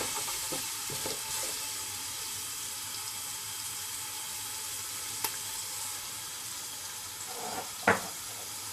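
Vegetable biryani mixture frying in a pan with a continuous, even sizzle throughout, a faint click midway and a short stirring scrape near the end, no voices.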